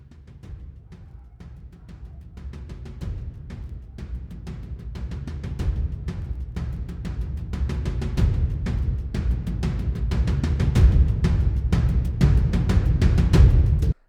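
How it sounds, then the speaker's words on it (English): Deep tom drums build in a rolling pattern, booming with heavy low rumble, growing louder and denser toward the end, with no voices. "We're going to look at these cinematic toms."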